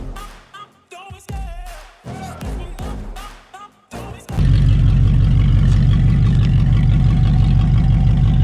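A homemade-driveshaft four-door Jeep truck fires up partway through, a loud, close engine that catches and settles into a rough, throbbing idle after a few seconds of music and clatter.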